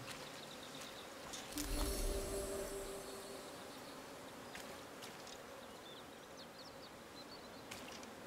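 A steady bee buzzing drone from the video game Blacktail fills the background, swelling briefly early on, with faint clicks scattered throughout.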